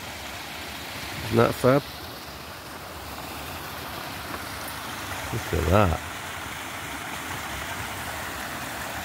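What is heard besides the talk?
natural waterfall heard from above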